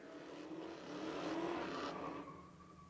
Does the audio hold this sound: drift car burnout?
yes